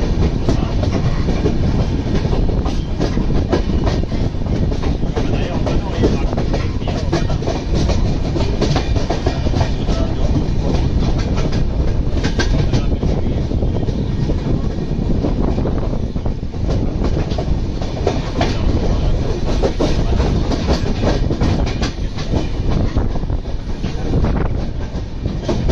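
A Konkan Railway train running near Chiplun, with a steady loud rumble and rhythmic clickety-clack of wheels on track, heard continuously from on board with no voices.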